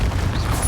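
A Confringo blasting spell goes off in the video game Hogwarts Legacy as a loud, low, dense boom that rumbles without a break for under a second, close and heavy with no clear attack or decay.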